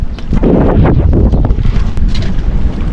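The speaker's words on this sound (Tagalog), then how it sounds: "Yan, medyo malakas ang hangin." Strong wind blows at sea from a small boat, loud gusty buffeting against the microphone that swells and eases in waves.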